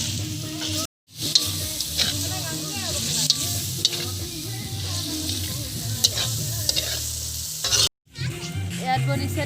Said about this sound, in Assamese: চিকেন আৰু আলু কবি ভাজি।